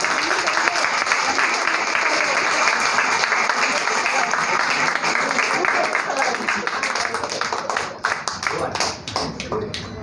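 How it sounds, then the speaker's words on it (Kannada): An audience at a Reality Book of World award ceremony for achievers applauds in a sustained, dense burst of clapping that thins into scattered individual claps toward the end. "ಪ್ಲೀಸ್ ದೊಡ್ಡ ಚಪ್ಪಾಳೆ ಇವಾಗಾದರೂ ಹೋಗಿ."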